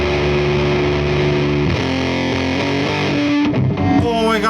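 A heavily fuzzed electric guitar rings out through a Marshall amp via a Harmonic Percolator-style fuzz pedal, sustained distorted chords shifting a few times, loud and thick with no talking.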